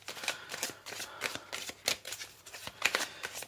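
Oracle cards being shuffled by hand for a reading, a steady close riffling and rustling with rhythmic soft slaps throughout.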